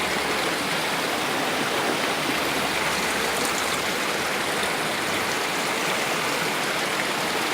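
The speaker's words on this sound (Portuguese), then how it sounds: "primeira cachoeira de 2019, Rio do Ouro" The Rio do Ouro waterfall near Piabetá, Rio de Janeiro, Brazil, gives a close, loud, unbroken roar of falling water that holds steady and even throughout, with no voices.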